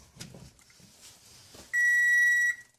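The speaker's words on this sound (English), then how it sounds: "And it's beeping, so it must have done something there." A Kenmore electric range emits a single sustained electronic beep just after being plugged in, a steady tone lasting under a second, loud and close, following some faint handling noises.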